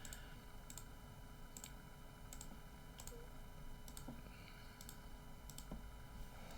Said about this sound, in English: Just clicking there.